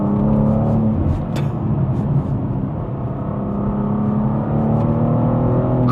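A manual BMW M2 G87 accelerates hard from inside the cabin, a loud continuous engine roar with a brief lift and gear change around the middle before it pulls on again.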